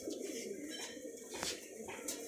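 A male Madrasi high-flying pigeon coos in a loft, soft rounded phrases repeating at a steady pace, faint and close, with light rustling and a brief chirp mixed in.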